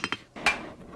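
A blacksmith's hammer strikes red-hot steel at a Civil War living-history demonstration, four sharp metallic rings with ringing decay, two quick blows followed by two spaced heavier ones, heard close with no talk.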